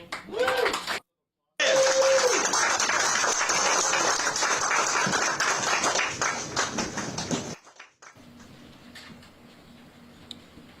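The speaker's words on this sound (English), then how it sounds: "Can we get a round of applause, though?" An audience at a panel discussion breaks into a round of applause, a full, steady burst of clapping lasting several seconds after a short spoken lead-in, then fading to quiet room noise.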